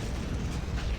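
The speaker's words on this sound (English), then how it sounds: "There's a lot of lag when explosions start going off." Dense, rumbling explosions with a low-end boom fill a one-second stretch of Doom 3 BFG Edition multiplayer gameplay, loud and continuous with no talk over them.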